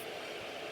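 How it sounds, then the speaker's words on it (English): Steady broadband whooshing hum of a running electric fan, constant and close, no other sounds. "My fan is on because it's hot."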